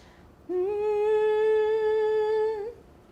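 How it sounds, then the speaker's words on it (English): A person hums a single steady pitch, a rich buzzy tone held for about two seconds, close and even in loudness, with nothing else heard beside it. "But if I hum the same pitch,"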